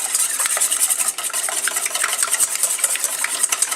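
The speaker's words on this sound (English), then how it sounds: "I'm just going to use a whisk to kind of beat them together" A whisk rapidly beating eggs in a bowl, making a steady, bright, close scraping rattle that keeps going without pause, with no speech.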